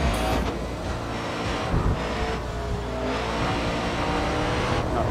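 Race car engine in the Grid Autosport driving game during a street circuit lap, a loud steady roar that rises and falls as gears shift, with a brief tire squeal, alone without talk.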